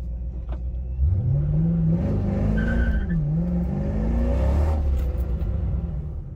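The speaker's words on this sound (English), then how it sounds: "My foot was all the way to the floor and the C5's traction control system stopped me dead in my tracks" Chevrolet C5 Corvette pulling away at full throttle with traction control intervening, a close, steady engine drone rising and dipping in pitch as power is cut, with faint tire noise and no talking.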